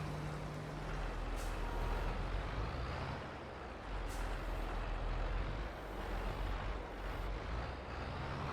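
Tractor and trailer maneuvering in the Farming Simulator 22 video game, a steady loud engine drone with a low rumbling hum that dips slightly a couple of times, continuous and without talk.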